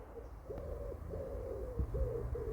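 Wood pigeons coo in soft repeated hooting phrases from a distance in an allotment garden, several calls in a steady rhythm over faint background noise.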